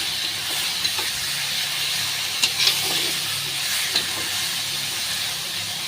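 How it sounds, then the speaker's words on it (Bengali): Fried potatoes stirred into a sizzling onion and tomato masala in a pan, a continuous close hiss and sizzle with occasional scraping clinks from the spoon, no talk. "কষিয়ে নিয়ে আলুটা দিয়ে দিয়েছি ভাজা আলুটা"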